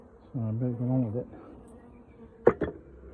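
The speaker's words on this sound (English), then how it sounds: "the bees don't seem too happy about me going in there" Honeybees buzz close by around an open hive in a steady drone that wavers in pitch, followed by a couple of sharp clicks.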